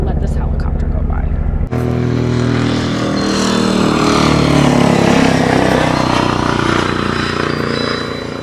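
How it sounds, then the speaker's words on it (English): A helicopter passing overhead outdoors, a loud broad engine and rotor roar that rises after a brief moment of talk and stays strong and steady, slowly fading toward the end. "let this helicopter go by"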